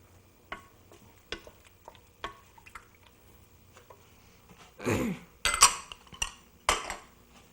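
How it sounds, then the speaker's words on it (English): A spoon stirs a spice mixture with ginger and cloves in a pot, making sharp scattered clinks and scrapes against the metal, followed by a denser burst of rattling and sizzling toward the end. "So we're going to stir all that up."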